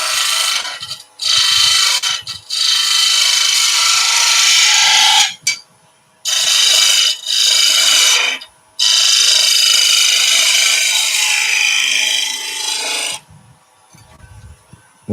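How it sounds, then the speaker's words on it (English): A smaller turning tool rounds over beads on a spindle in a wood lathe, giving bursts of harsh scraping and rasping cut by short pauses, loud and close, with no talking. "Let's go for a slightly smaller tool just to round these beads over."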